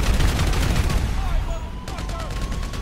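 Sustained gunfire with explosive ammo in Grand Theft Auto V during a Fort Zancudo raid, dense loud bursts throughout with a brief dip near the end, while someone talks over it.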